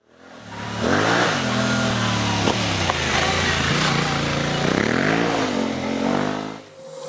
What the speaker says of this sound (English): that little twin just purrs along nice and smooth